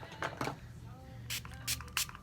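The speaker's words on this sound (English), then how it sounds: "spray the beauty blender" Spray misted onto a makeup beauty blender sponge: several short, soft hissing bursts in two loose clusters, close and fairly quiet, with a faint voice in the background.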